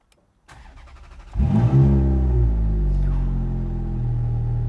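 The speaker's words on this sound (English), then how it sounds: "Now start the engine." A Ferrari Scuderia Spider 16M catches with a sharp starter whirr, then its engine barks loudly to life and settles into a deep, steady rumbling idle, close and alone.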